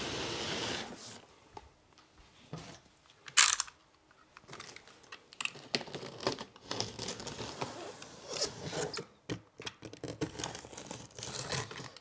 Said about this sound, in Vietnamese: Và giờ thì tôi sẽ xin bóc những cặp thùng loa này ra.